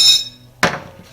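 An old hammer strikes a bolt on a GM 14-bolt rear end, a ringing metallic tone followed by one sharp, close impact.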